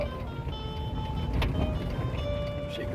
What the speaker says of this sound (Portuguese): Chegando, o carro morrendo. Pronto, já morreu aqui.